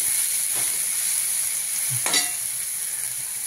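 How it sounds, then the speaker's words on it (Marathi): Cauliflower stalks being stir-fried in a pan for a cauliflower and potato vegetable dish, a close, continuous sizzle with a couple of soft scraping stirs and no voices. "हे देठ परतले देठ की ते एकदम मऊ होऊन जातात"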